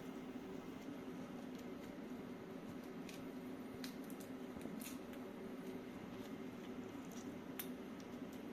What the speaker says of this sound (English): for cutting lemon, this setup of Knipex Cobra plus Victorinox scissors works